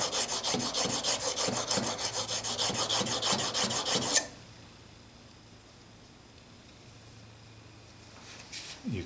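Blum plane blade rubbed back and forth on a sharpening stone in quick, steady rasping strokes for about four seconds, then stopping into near silence with a faint scrape at the end.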